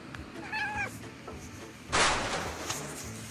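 A kitten meows once, a short harmonic cry near the start, then a louder noisy clatter follows, with no talking over it.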